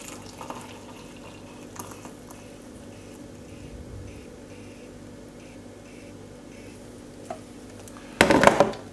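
Boiled water pours into a tea mug in a short splashing burst near the end, after a long stretch of quiet room tone.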